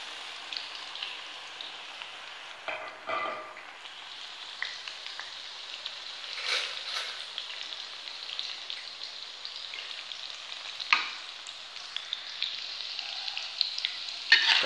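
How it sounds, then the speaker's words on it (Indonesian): Tempeh frying in hot oil, a continuous crackling sizzle with occasional louder pops and stirring scrapes, close by. "kita masukin tempe ya kita goreng"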